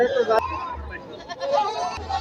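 A castrated male goat bleats a few short times amid background chatter and the busy murmur of the Kalampur livestock market.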